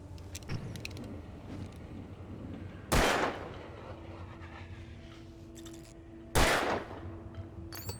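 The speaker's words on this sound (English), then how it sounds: "I just felt like shooting those" Two sharp, loud gunshots in the Alan Wake Remastered video game, spaced a few seconds apart, each with a brief ringing tail over quiet background ambience and faint mechanical clicks.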